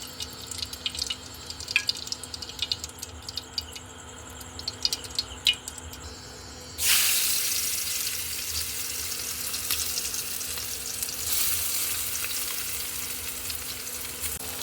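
Onions frying in ghee, first quiet crackles and ticking pops over a low hum, then a sudden loud, sustained sizzle as the onions hit the hot fat, continuing steadily to the end.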